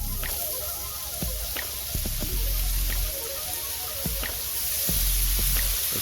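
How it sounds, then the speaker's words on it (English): Bacon sizzles on a griddle set on a Weber kettle grill, a steady close hiss with scattered pops and spits running throughout. "It's just singing to me, sizzling away."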